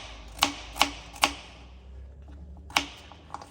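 A knife chops peeled carrots into chunks on a board, giving four sharp, close thuds, three in quick even succession, then a pause before the last, with a faint tap at the end.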